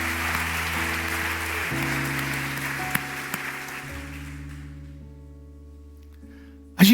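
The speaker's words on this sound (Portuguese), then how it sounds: "Você pode dar um aplauso a Ele?" A church congregation claps over sustained organ or keyboard chords, the applause moderately loud at first and then thinning out and fading while the music holds, ending with a sudden loud knock.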